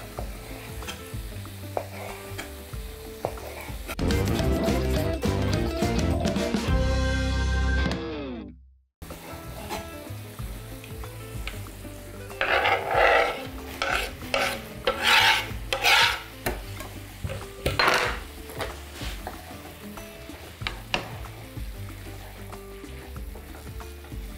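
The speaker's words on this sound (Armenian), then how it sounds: "Թող տապակվեն" Beef tongue frying in a pan, a loud hissing sizzle that builds and cuts off abruptly, then quieter crackling frying with bursts of stirring and scraping in the pan, no talk.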